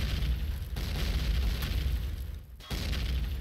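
Fuel exploding in the space survival game Empyrion, a loud sustained blast with heavy low rumble lasting several seconds and a brief dip near the end before resuming.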